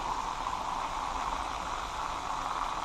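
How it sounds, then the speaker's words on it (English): Chicken frying in oil in a covered pan for Jamaican barbecue fried chicken, giving a steady, even hiss and crackle that holds at one level throughout without a break. "While the chicken is frying away"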